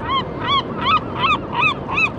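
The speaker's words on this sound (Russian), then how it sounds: "Чайки кричат." Seagulls cry over the Pacific Ocean on the northwest US coast, about six loud, harsh calls in a steady rhythm over a constant background wash.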